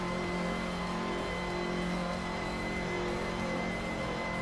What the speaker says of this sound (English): Arayu Serial is driving a Ferrari